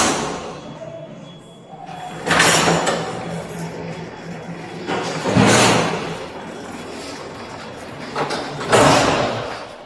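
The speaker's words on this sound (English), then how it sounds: "Big metal doors slamming and crashing." Big metal jail doors slam and crash three times, each a loud booming impact echoing through a hard, reverberant corridor, with shuffling background noise in between.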